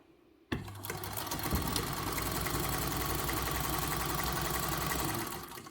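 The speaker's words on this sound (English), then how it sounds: "So I'm now just going to sew it." A sewing machine runs steadily along a marked line on fabric for bag-making, its motor humming and needle chattering in a fast continuous rhythm after a sudden start, close and fairly loud, then easing off at the end.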